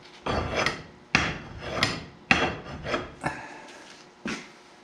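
Kubota BX1860 mower deck blade edges filed by hand on a vise: six slow rasping strokes in an uneven rhythm, close and clear, with no talk.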